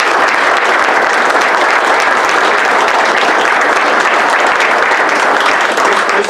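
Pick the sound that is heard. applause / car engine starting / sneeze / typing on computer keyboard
applause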